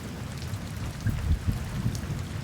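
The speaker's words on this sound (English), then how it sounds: "yeah, thunderstorms in the desert." Rain from a thunderstorm falls in the Namibian desert as a dense, continuous hiss with heavier drops and low rumbling bursts, close and steady throughout.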